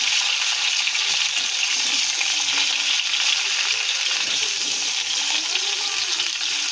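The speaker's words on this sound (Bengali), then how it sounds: "ঝিঙেটা দিয়ে দেবো, দিয়ে ভালো করে কষিয়ে নেব।" Ridge gourd and potato sautéed in a pan for a vegetarian curry, producing a loud, continuous hiss-like sizzle that stays even throughout, close up with no voices.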